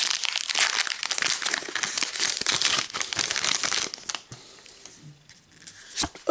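Foil Pokemon booster pack wrappers from a Sword and Shield Fusion Strike box being torn and crumpled, a dense continuous crinkling that runs loud for about four seconds, then thins to a few sparse rustles and a final sharp crackle.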